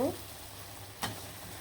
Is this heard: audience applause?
no